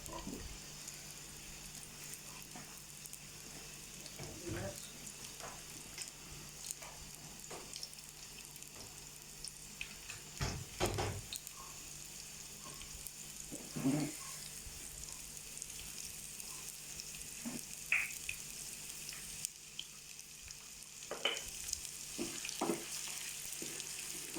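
Light sizzling and crackling of crushed garlic frying in hot oil for a tempering, steady throughout with occasional sharper pops and spatters, no voices.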